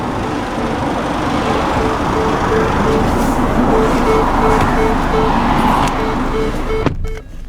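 A 2015 Ford Kuga Zetec sounds a repeating electronic alert inside the cabin, a steady string of evenly spaced pulses over loud, constant road and engine noise. It cuts off abruptly near the end.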